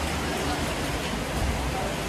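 Rain falling outside a roadside restaurant, a dense, even hiss of steady downpour that stays constant and fills the background from start to finish.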